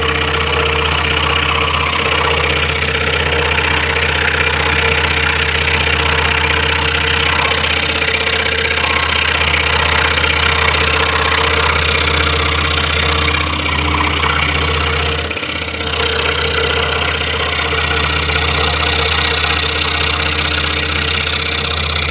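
A scroll saw cuts wood with a steady, loud, continuous motor drone and rapid buzzing blade chatter, close up and unbroken for the whole stretch.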